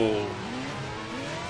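Race car in the Project CARS racing game at Barcelona-Catalunya spinning out, a steady engine drone with tire squeal and skidding that fades slightly after a louder start, close and continuous with no talk.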